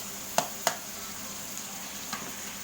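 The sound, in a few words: tomatoes sautéed and mashed in pan for mung bean stew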